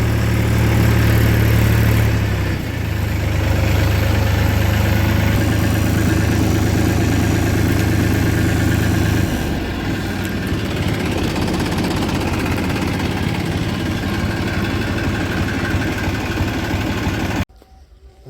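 A tractor that has just finished ploughing a field in wet, muddy soil idles loudly and steadily close by, its tone shifting slightly twice before the sound cuts off abruptly near the end.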